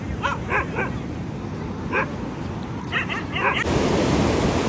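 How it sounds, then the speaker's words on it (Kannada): Several dogs yip and bark in short bursts at a distance on Gokarna beach, scattered through the clip over a steady outdoor hiss. "ಎಲ್ಲ ನಾಯಿಗಳು ಹತ್ರ ಬರ್ತಿದ್ದಾವೆ"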